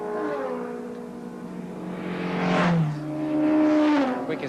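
A 1984 Shellsport race car at Pukekohe circuit in New Zealand drives past the start-finish line on a drying track, its engine note rising and swelling in pitch as it passes by at speed.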